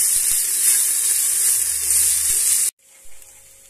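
Cumin and rice being mixed in hot desi ghee in a pan, giving a loud, bright, continuous sizzle that cuts off abruptly near the end, leaving quiet room tone.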